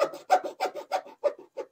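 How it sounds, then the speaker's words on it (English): Rasping strokes trimming a small curved piece of a Corvette C3 wiper bay panel, about seven short scraping passes in a steady rhythm, close and alone with no talk. "trimming this one small piece at a time, like so."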